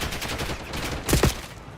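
Gunfire in an online shooter video game, with a steady spread of rapid shots followed by two louder, heavier bursts near the end, fairly loud and with no one talking.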